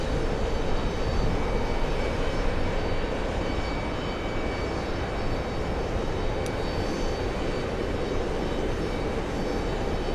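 An Emirates airliner in special livery lands at JFK, a loud, steady broadband jet roar that holds evenly throughout, close and unbroken, with no voices over it.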